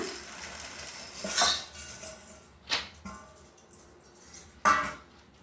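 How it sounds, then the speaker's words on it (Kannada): Utensil scraping and clinking in a pan as roasted sesame seeds are stirred together with jaggery for a Sankranthi sweet, a few sharp metallic taps standing out over quiet, sparse rustling. "ಇವಾಗ ಒಂದೊಂದಾಗಿ ಮಿಕ್ಸ್ ಮಾಡ್ಕೊಳ್ಳೋಣ ಎಲ್ಲ ಬೆರೆಸ್ಕೊಳ್ಳೋಣ"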